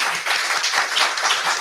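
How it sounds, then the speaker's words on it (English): A candidate forum audience in Shaker Heights applauds the candidates with a dense, steady round of clapping that is fairly loud and close and holds evenly throughout. "We'd like to give our candidates a big round of applause."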